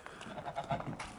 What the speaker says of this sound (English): The goats are doing good, but look at the size of Karen here.